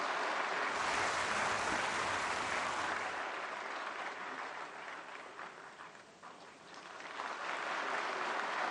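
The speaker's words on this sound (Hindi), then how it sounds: "प्रधानमंत्री जी के लिए जोरदार तालियां" Crowd applause for Prime Minister Modi at the release of The Collected Works of Pandit Madan Mohan Malaviya; broad, distant-sounding clapping that stays strong, dips midway, then swells again briefly.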